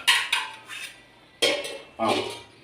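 Metal pot lids being tried one after another on a cooking pot, giving four sharp clinks and clatters spaced irregularly and heard close up, with no voices.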